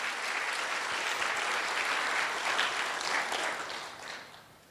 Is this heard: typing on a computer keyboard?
no